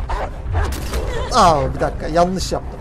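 A dog barks and yelps aggressively in the video game Beyond Two Souls, with loud, repeated barks under someone talking excitedly.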